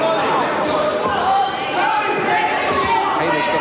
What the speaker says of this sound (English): Hamer's got some coachload of fans by the sound of it, sitting behind us there, cheering his every punch.